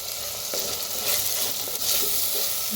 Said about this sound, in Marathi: छान भाजून घेऊया टोमॅटो